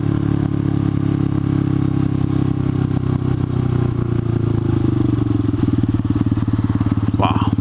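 A motorcycle ridden on the way to work rumbles loud and close, a steady engine drone with wind buffeting and a brief rise in revs near the end.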